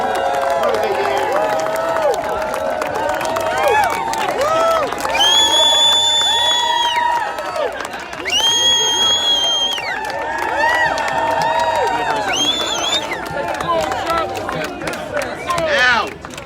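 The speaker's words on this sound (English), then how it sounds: "I want to hear a big, long New York round of applause for every single organizer" A large crowd at a New York rally cheers and applauds in a loud, sustained roar, with shouts and raised voices layered through the whole stretch.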